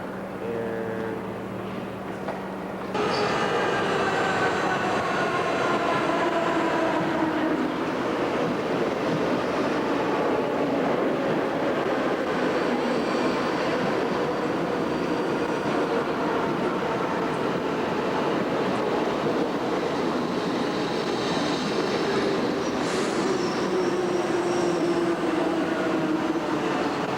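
A Paris metro train rumbles and roars steadily past, loud and close, with squealing wheel and brake tones rising over the din.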